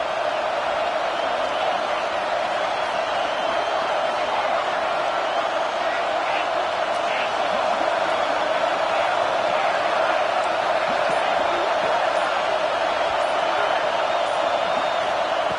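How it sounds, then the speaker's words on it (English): A large college football stadium crowd roars in a constant, distant wash of noise, steady throughout with a slight swell toward the end. "Here comes the crowd noise trying to help this defense out."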